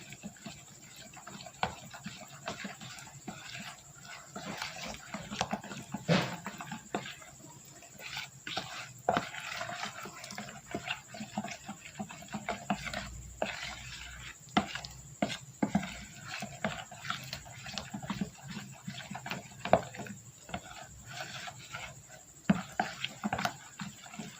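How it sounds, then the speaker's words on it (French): Soap base is stirred in a container after actives are added, giving soft, irregular scraping and tapping strokes, close and fairly quiet, with a faint steady hiss underneath. "Et je vais remuer."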